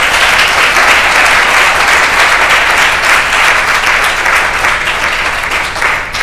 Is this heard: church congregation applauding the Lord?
yes